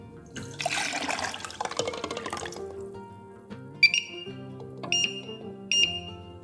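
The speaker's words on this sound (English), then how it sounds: "fill it with cold water and then turn on the heat to bring it to a boil" Cold water runs from a tap into a pot for boiling eggs, splashing and gurgling for a couple of seconds, followed by a few metallic clinks and knocks.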